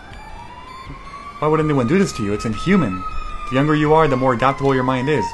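A wailing emergency siren in the Axiom Verge 2 game, a long steady tone sweeping gently, runs faintly in the background throughout while a voice talks over most of it.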